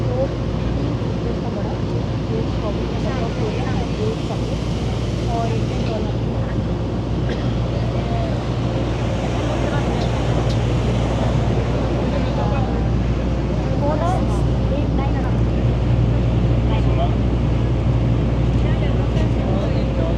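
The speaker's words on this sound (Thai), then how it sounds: "โอ้ มีเรือวิ่งมานะครับเรือด่วนเรือด่วนนะครับ" An express boat on a river in Thailand passes with a steady, loud engine rumble and water noise throughout, while someone talks over it.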